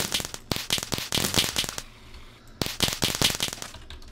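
A power-shooting effect from a Minecraft mod for a Scarlet Witch character, heard as rapid bursts of bright crackling pops in two quick volleys separated by a short pause, loud and close.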